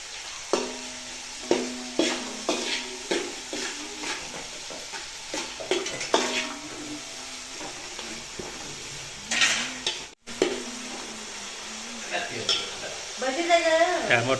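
Tomatoes sauté in oil with salt, a steady sizzle under repeated clinks and scrapes of a spoon against the pan, close up, with brief faint background voices.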